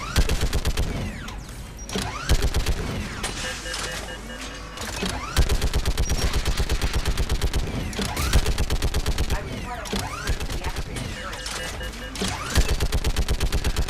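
Geth turret gunfire in Mass Effect 3 rattles in long rapid bursts with short gaps, loud and continuous, dense automatic shots over game rumble and effects.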